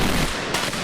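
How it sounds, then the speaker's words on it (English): Firecrackers bursting at the Las Fallas Festival in Valencia, a loud dense crackle of rapid overlapping bangs close by, continuous through the short stretch. "If you love fireworks"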